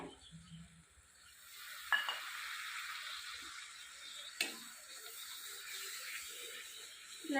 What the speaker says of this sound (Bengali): কাঁচা বেসন তো একটু জলদি কষাই হালকা পরিমাণে